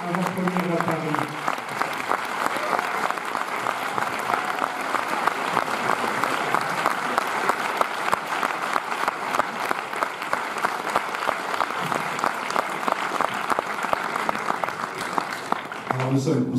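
A large audience at a Paris film premiere of Midnight Special applauds Jeff Nichols, with dense, steady clapping that runs loud and unbroken for the whole stretch; a voice is briefly heard at the very start and again near the end.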